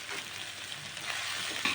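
Chili powder fries with softened tomatoes in a pan, giving a faint, steady hiss and light crackle over a short stretch, with no voices.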